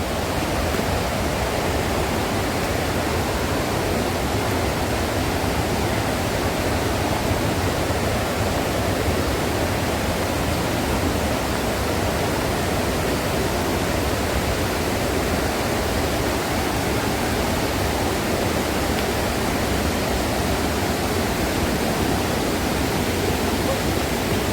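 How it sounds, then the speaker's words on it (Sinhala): Steady, loud roar of the Makeli waterfall in Kalutara, Sri Lanka, a dense broadband rush of falling water that fills the whole scene without a break. "හරි එහෙනම් අපි ආවා මාගලි ඇල්ල ළඟට."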